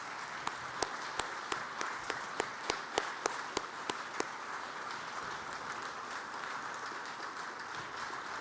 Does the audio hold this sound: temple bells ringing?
no